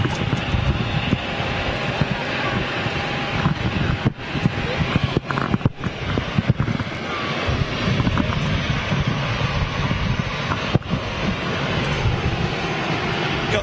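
Emirates Airbus A380 jet engines roaring steadily overhead with a broad, sustained rumble and hiss, heavy wind buffeting the microphone, with voices talking over it.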